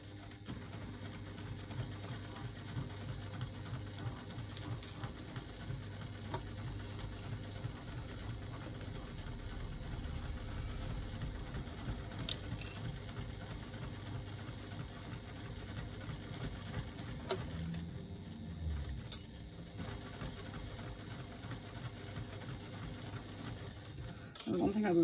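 A sewing machine stitching a zipper onto an exterior fabric panel hums and whirs steadily at moderate volume for a long stretch, with a few brief clicks and a short pause near the end.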